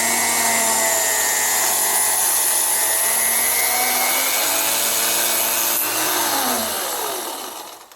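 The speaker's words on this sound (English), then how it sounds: "Start up your motor and get things going first, and then move it into your rings." A Pepetools jump ring maker's small electric motor whirs with a loud, high, steady whine that drifts slightly in pitch, then spins down and fades near the end.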